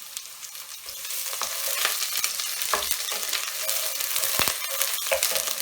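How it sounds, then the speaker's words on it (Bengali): Chopped onions fry in hot oil in a pan, a steady, close crackling sizzle broken by brief scraping and stirring clatters, with no talking. "পেঁয়াজটা এখন একটু ভাজা ভাজা করব।"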